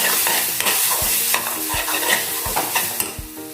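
A spoon stirs coriander and cumin powder into taro root (arbi) frying in a pan: repeated scraping strokes against the pan bottom over a continuous close sizzle, loud and uneven in rhythm, with no talking.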